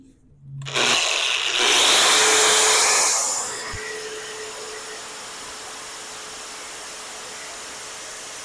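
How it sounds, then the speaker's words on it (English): An angle grinder cuts into a metal coupling piece close to the microphone. A loud, harsh whine builds for about two seconds and then fades, leaving a faint background hum. "Do those with the angle grinder."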